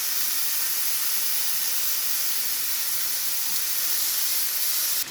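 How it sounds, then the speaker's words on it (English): Inch-thick pork chops sizzle in a hot frying pan at home, a loud, steady, close hiss of fat and moisture that carries on unbroken throughout with no talking. "now we're going to get these gorgeous chops into the frying pan"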